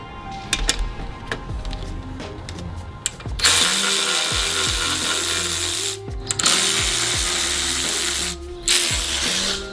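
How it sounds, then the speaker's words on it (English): An electric ratchet removes 10 mm bolts on a Subaru WRX, with loud, close whirring bursts broken by short pauses. Brief metallic clicks and tool handling come before the first run. "In the interest of speed, you can get an electric ratchet"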